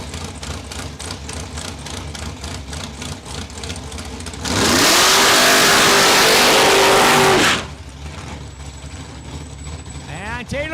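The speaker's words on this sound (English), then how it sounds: "And Taylor Fiesel warming up the rear tires on that 2001 Dragster." A 2001 dragster warms up its rear tires at a raceway, its engine idling roughly before a loud, sustained full-throttle roar lasting about three seconds, then dropping back to a rumbling idle.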